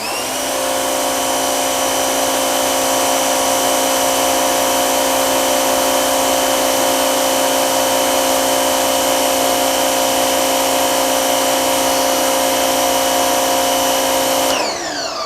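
An Active electric pressure washer runs with its factory nozzle, a loud, steady high-pitched motor whine that holds constant for about fourteen seconds before cutting off.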